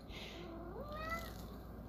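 A house cat meows once in a faint, rising-then-falling call near the middle, heard indoors over a steady low background hum with no talking.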